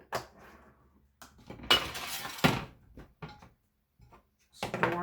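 Crisp clinks and clatter of salted caramel cracker bites dropped into a glass storage container in a home kitchen, several close bright knocks in short bursts separated by brief pauses.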